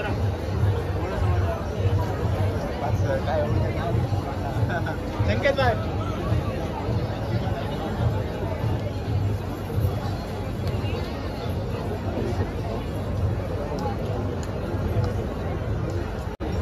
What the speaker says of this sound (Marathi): मंदिराच्या मागच्या बाजूला किती गर्दी आहे.